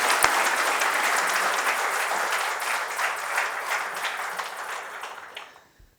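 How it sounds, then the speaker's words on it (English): Audience applause at a Gainwell CAT rededication day ceremony, a full steady round of clapping from a sizable crowd that gradually thins and fades out at the end. "please give her a thunderous round of applause before she joins"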